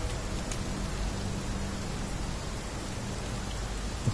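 Steady rain in the Skyforge video game, a continuous even hiss of falling drops with no talking, faint and unchanging throughout.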